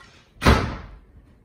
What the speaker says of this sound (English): The policeman shut the door